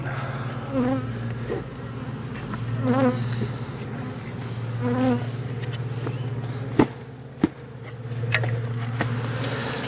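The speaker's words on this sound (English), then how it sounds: "And now we're going to shake the bees in." A dense, steady buzz of many honey bees from a package being shaken into a mating nuc close by, swelling and easing in waves, with a couple of sharp knocks near the end.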